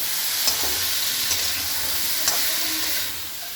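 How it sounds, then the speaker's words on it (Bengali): Salt and turmeric stir-fried with spices in a pan give a steady, close hiss of sizzling oil, broken by a few sharp spoon taps against the pan, before the sound eases off near the end. "নুন দিয়ে দিচ্ছি 1 চামচ, হলুদ দিয়ে দিচ্ছি 1 চামচ, দিয়ে এবার আমি ভালো করে কষিয়ে নেব।"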